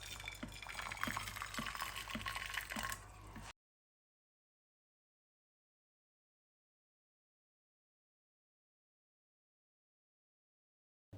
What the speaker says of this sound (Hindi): मेल्ट करने के लिए मैंने पानी गर्म कर लिया है केटल में, और पानी को इस बॉल में डाल देंगे।